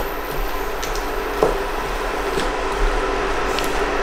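A vegan stuffed pepper filling with brown rice being stirred in a pan, soft squishing and scraping with occasional light knocks against the pan, heard close over a steady background hiss.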